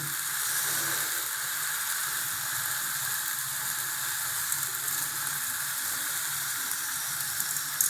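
Gooseberries dropped into a hot pan give a steady, bright sizzle and hiss that holds evenly throughout, fairly close and alone with no talking.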